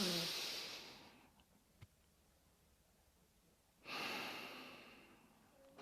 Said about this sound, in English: But now here's the reverse breath.